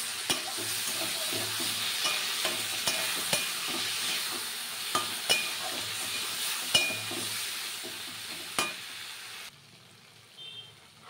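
Flat beans cooked with turmeric and ground mustard paste sizzle steadily in a pan, with regular clinks and scrapes from a stirring spoon, until the frying noise cuts out abruptly near the end.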